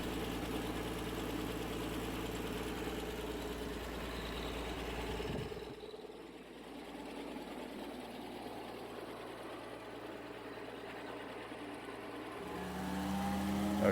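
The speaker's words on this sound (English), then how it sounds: "the clutch was just engaged and you can hear the drum rolling" An early-model mobile wood chipper with a 120 horsepower motor running, its engine holding a steady mechanical drone that drops and changes tone midway as the clutch engages and the drum starts rolling, then rises again near the end.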